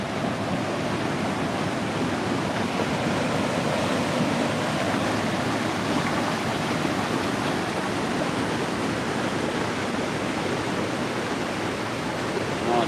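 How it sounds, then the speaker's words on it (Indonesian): Strong floodwater rushes through the Jati floodgate in Bekasi, a loud, dense, unbroken roar of churning water that holds steady throughout. "airnya kencang banget tuh."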